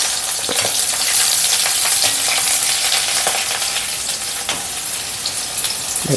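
Chopped chili and onion fry in a hot pan with a loud, dense sizzle, broken by a few scrapes of stirring.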